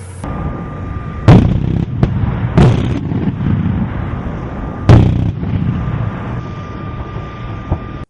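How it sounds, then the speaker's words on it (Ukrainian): An anti-aircraft combat vehicle fires at a military training ground: a few loud, heavy bursts of gunfire boom at irregular intervals over a steady mechanical drone. "За одну хвилину ця бойова машина може здійснити близько п'яти тисяч пострілів"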